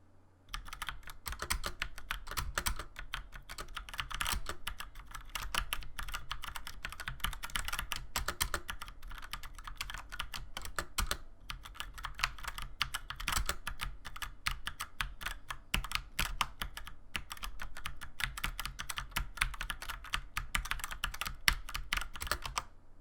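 Brisk, continuous typing on a Tecware Spectre Pro mechanical gaming keyboard with Outemu brown switches: a dense stream of fairly soft, close keystroke clicks, with no talking.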